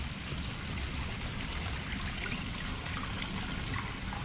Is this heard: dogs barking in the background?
no